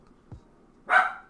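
A pet dog gives a single short, sharp bark in a quiet indoor room, fairly close, following a faint low thump, with no speech over it.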